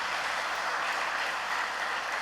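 A church congregation applauds the choir after a worship song, a steady, full sheet of clapping from many hands, loud and even from start to end with no voices.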